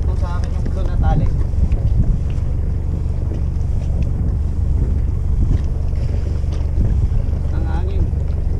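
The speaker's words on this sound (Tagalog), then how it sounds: "Ang hangin." Strong wind buffets the microphone aboard a sailboat on Subic Bay with a constant low roar and gusty rumble, while voices call out faintly beneath it.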